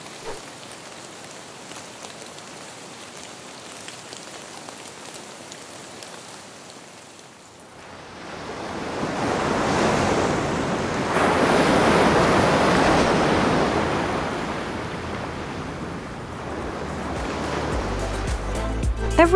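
A kids' sleep clock's sound machine plays a soothing ocean-surf and rain-like wash of noise that swells louder partway through and then holds steady, with no voices.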